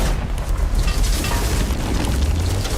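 A safe blown up with TNT gives a loud, heavy explosion, a deep rumbling boom with debris noise filling the whole stretch and no clear voices.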